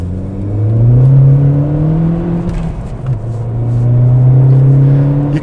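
A Seat Ibiza 1.8-20V VT FR hatchback with a turbocharged 1.8 20-valve engine accelerating hard on open road, its engine note climbing steadily through the revs in two strong pulls with a brief dip at a gear change, loud and close.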